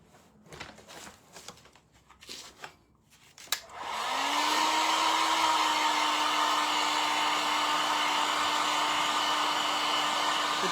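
A hair dryer dries a painted tin can carrot craft, switching on after a few seconds of faint handling noise and then blowing in a loud, steady whoosh with a constant motor whine through to the end.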